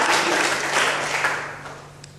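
A church congregation claps loudly in a dense, steady burst of applause that gradually fades over a couple of seconds.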